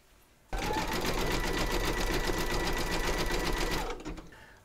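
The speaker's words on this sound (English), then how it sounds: "Pop your hoop into your machine and stitch round number 10 to secure it." A large embroidery sewing machine stitches a zigzag securing round in a hoop, a fast, steady mechanical chatter that starts abruptly, runs for about three seconds close and loud, then stops.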